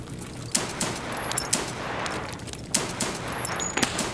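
Gunfire in Escape from Tarkov, modded with SPT-AKI 3.8 and AI bots: scattered sharp shots and short bursts at moderate distance, irregularly spaced over a steady background, with no talk.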